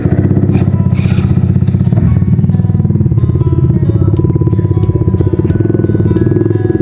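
A Yamaha XSR 155 Scrambler and a Suzuki Gixxer 155 ride together, their engines droning loud and close with a steady pulsing hum and light clatter throughout.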